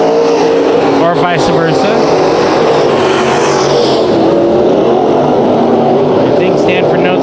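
Race cars roar around Bakersfield Speedway during a heat race, engines loud and continuous with rising and falling pitch as cars pass, under an announcer's steady commentary.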